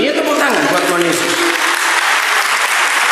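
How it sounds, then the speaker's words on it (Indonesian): A church congregation breaks into loud, dense applause during a sermon. The clapping is sustained and close, and a voice is heard briefly at the start. "ya tepuk tangan buat Tuhan Yesus"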